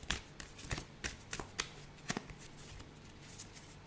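Tarot-style reading cards shuffled by hand close up, giving a run of soft, irregular riffling slaps and flicks that fade toward the end, with no talking.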